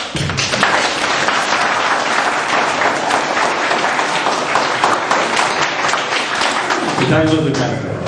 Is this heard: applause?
yes